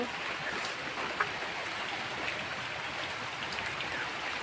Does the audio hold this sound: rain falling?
yes